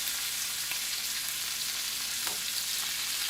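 Butter foams and sizzles hard in a pan around a ribeye steak, a dense steady hiss, close and loud, with no talking.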